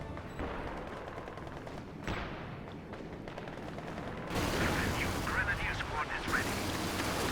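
Artillery bombardment in the video game Company of Heroes 2, with a rolling barrage of distant booms and crackling gunfire that grows louder and denser midway, heard as a continuous battle din.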